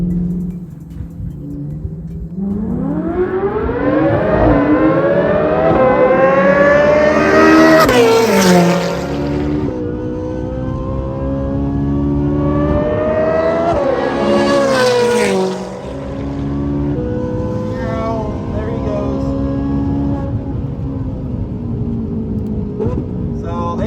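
Jeep Wrangler with an 840-horsepower Dodge Demon engine drag racing against McLarens, engines roaring loudly and climbing through gears in two long accelerating pulls, with someone speaking over the din.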